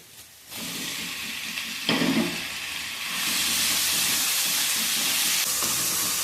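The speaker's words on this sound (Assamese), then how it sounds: "পিঁয়াজ, আদা, নহৰুখিনি ভাজি হোৱাৰ পিছত ইয়াতে মই বিলাহীখিনি দি দিম।" Tomatoes fry in a pan with onion, ginger and garlic paste for a mushroom masala curry, a steady close sizzle and hiss that jumps louder as they go in and keeps bubbling.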